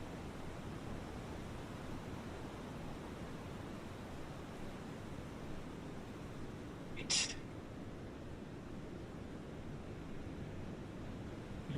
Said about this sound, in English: How's the volume of the waves?